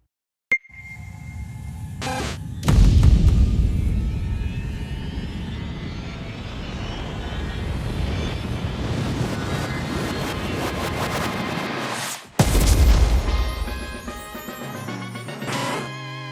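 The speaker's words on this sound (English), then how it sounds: "pile on sounds like magical chimes, explosions, reversed explosions, and wind to build tension in the low end" Layered Pokémon GO-style sound effects: shimmering magical chimes, reversed explosions and rushing wind swells, punctuated by two heavy booming explosions, with no voices.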